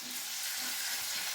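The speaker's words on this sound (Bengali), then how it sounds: "তেলে আগে রসুন কুচিটা দিয়ে নেওয়া হচ্ছে" Chopped garlic frying in hot oil with onion gives a steady, close, hissing sizzle that runs unbroken, with no voices over it.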